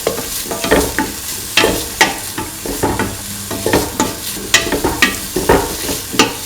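Tofu rice with green chili is stirred in a sizzling pan, a spatula scraping in steady repeated strokes over a constant frying hiss, close and clear with no talking.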